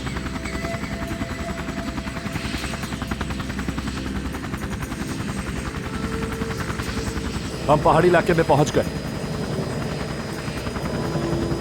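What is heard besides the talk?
helicopter flying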